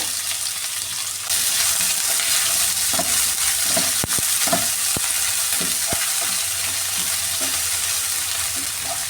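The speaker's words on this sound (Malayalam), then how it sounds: "ഇത് നന്നായിട്ടൊന്ന് മൂപ്പിച്ചെടുക്കാൻ ചെറിയുള്ളി ഒന്ന് മൂത്ത് വന്നിട്ടുണ്ട്" Shallots frying in oil in a pan over a medium flame for a Kerala potato stir-fry, a steady loud sizzle with a sharp jump in intensity early on and scattered scraping stir clicks throughout.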